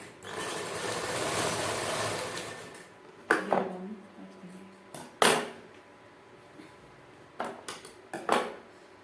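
A sewing machine stitching a fabric strip onto a salwar: a soft whirring run at first, then several sharp clacks and short bursts as the fabric is shifted, fairly close but quiet.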